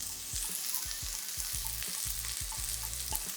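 Ackee sautés in a pan with garlic and Scotch bonnet pepper, a close, constant sizzle broken by a regular series of soft thumps and scrapes from stirring, no talk.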